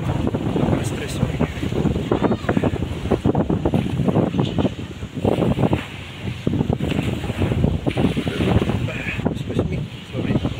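Strong wind buffets the microphone in gusty, continuous bursts outdoors, loud and rough throughout, with a faint voice mixed in.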